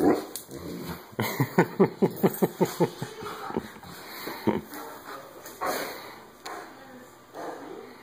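A puppy named Tsunami gives a rapid run of sharp, high yips and barks, then softer whimpers and whines close by.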